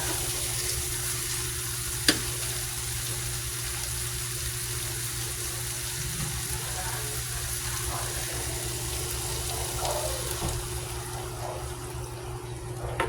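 Water goes into a hot pan while cooking sweet and sour fish, producing a loud, steady hiss and sizzle that runs unbroken throughout with no one talking.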